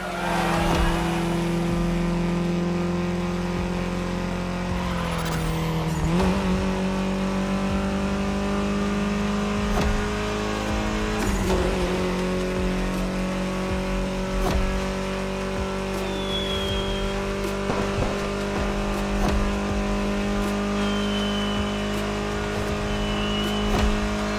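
A Mini Cooper races in The Crew Motorfest, its engine droning loud and steady, rising through revs with abrupt drops at gear changes and brief tire squeals, no voices.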